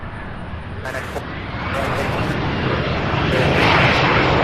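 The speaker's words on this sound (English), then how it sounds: "Very nice landing." A jet airliner landing at Louisville International Airport, a steady broad roar building slightly louder toward the end, with voices talking over it.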